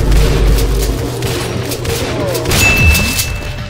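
Gunfire in a video game, with dense booming shots and rumbling blasts under a continuous game soundscape, loud and close, with a sharp whistling tone near the end.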